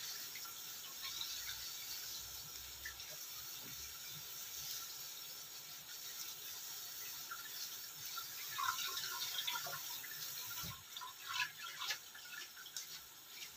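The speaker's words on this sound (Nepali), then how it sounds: "यसरी हामीले राख्यो भने यसमा भएको पानी सबै निक्लिन्छ।" Water drains from boiled chow mein noodles, a faint steady trickle and hiss with scattered drips and a few louder splashes toward the end.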